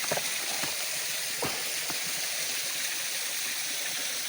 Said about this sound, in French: pour vous montrer le ruisseau de plus près